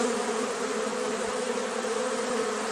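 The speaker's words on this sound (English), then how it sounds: "No, that's a wasp swarm." A swarm of wasps buzzes in a dense, continuous drone, loud and close with no pauses.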